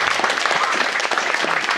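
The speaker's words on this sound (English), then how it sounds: "Could you give a round of applause?" A short burst of steady, dense applause from the audience at a community panel on race at New College, University of Toronto, filling the room without a break.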